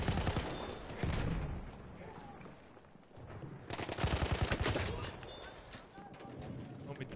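Rapid bursts of video game gunfire from a PS4 game, including an anti-tank rifle, loud and repeated in quick rhythmic volleys, with a brief lull before another sustained burst.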